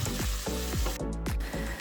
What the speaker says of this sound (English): add the onions to my saute pan and get those sauteed up for a little bit